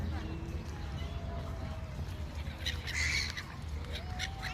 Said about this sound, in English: a lot of seagulls, pigeons, and ducks.